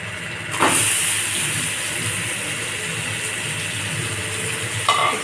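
A loud, continuous hissing sizzle of chicken frying in a pan, starting abruptly and holding steady, with a faint clink near the end.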